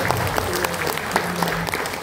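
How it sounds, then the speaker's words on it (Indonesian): A short burst of audience applause at an awards talk for a national teacher innovation champion, a dense patter of many hands clapping at moderate volume. "Bisa tepuk tangan untuk Pak Selamat."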